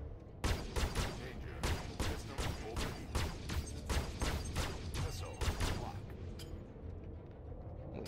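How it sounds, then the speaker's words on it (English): Rapid repeated laser weapon shots from a spaceship in the video game Star Citizen, about a dozen sharp bursts in a steady rhythm over a low rumble, then tapering off. "running a little bit hot with our laser weaponry here"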